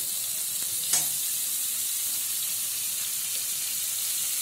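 Tomatoes go into a pan of frying spices for a chicken feet curry, giving a steady hiss of sizzling oil with one brief sharp splash and a few faint stirring scrapes, and no voices.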